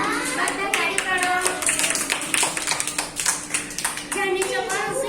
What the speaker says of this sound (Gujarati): વાર્તા તાળી પાડો.